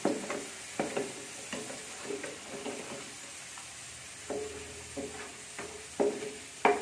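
Potatoes fry in a pan for an East Javanese dish, a faint sizzle under repeated scraping and stirring clicks of a utensil as the browned pieces are lifted out.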